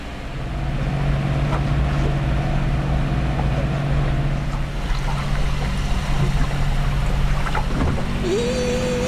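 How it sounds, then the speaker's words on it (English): Sailboat pushing along under its engine with reefed, damaged sail, a steady low drone and hum of the motor, constant and loud throughout with water rush, and a faint rising whine near the end. "That means we have to push a little bit with the engine."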